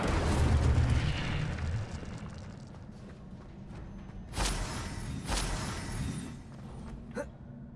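An Incendio fire spell cast in Hogwarts Legacy, heard as a rushing whoosh at first, then a rumbling, crackling blaze with two booming bursts and a final sharp crack, fairly near and without talk.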